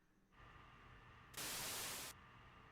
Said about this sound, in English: Radio noise? I hear something sound similar to when the tapes are played back.